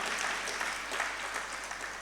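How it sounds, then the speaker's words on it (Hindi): Soft, distant applause from an audience at a religious discourse, a faint continuous patter of many hands under a steady low hum, lasting only a moment. "एक बार जोरदार तालियां बजाइए।"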